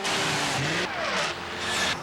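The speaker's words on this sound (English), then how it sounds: "with a far more potent 290 horsepower engine, it's now one of the fastest luxury sedans in its class." A Lexus luxury sedan with a 290 horsepower engine accelerates, its engine note rising and swelling steadily over a short stretch, moderately loud with no speech.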